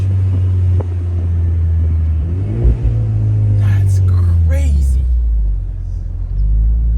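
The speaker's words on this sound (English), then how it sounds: "So it's going to downshift on its own, watch." A 2024 Ford Mustang EcoBoost Premium downshifts on its own while being driven, its engine droning loud and low before the revs rise and fall, with someone speaking briefly inside the car.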